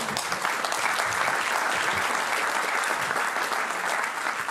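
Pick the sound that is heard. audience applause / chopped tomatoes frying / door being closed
audience applause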